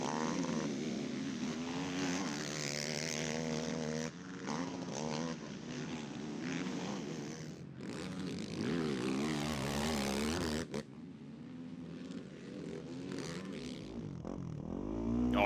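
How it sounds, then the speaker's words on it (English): ATV motocross racing engine at an ATVMX national championship track, revving hard with sharp pitch swings as the rider dumps the clutch setting up for a corner, loud and continuous with other machines buzzing behind. "you hear Ford just dumping the clutch. Setting up for that corner"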